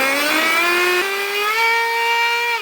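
A small petrol engine drives a homemade toothbrush, running loudly and steadily at close range with a strong buzzing whine that climbs slightly in pitch as it revs, with no talk over it.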